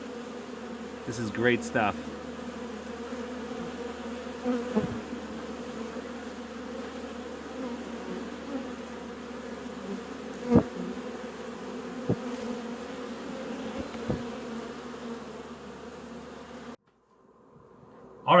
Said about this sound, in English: There were a ton of bees in colony 1.